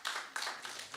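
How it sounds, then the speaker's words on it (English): Applause for Karen at an annual general meeting comes as a few bursts of clapping from a small group, fairly faint and close, with no talk over it. "she deserves a round of applause"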